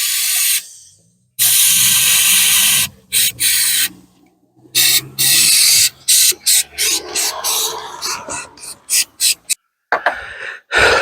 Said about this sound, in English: Might get a little bit more compressed air.